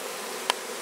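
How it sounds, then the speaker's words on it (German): A honeybee swarm being captured by a beekeeper gives a steady, soft insect hum, with one sharp brief click partway through and no voices. "Die Bienen laufen jetzt so langsam hoch."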